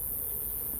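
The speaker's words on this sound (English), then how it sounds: "All the bees are down in here." Bees buzz inside a bee vac swarm box after being bumped down from the lid, a steady low drone that fills the short moment without any talk.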